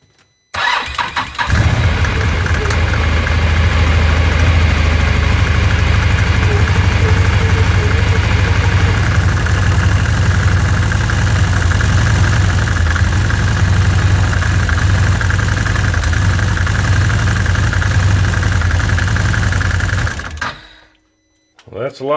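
A UATV engine starts and then idles after a clutch install, with a steady loud mechanical drone that holds for about twenty seconds before cutting off. No one talks over it.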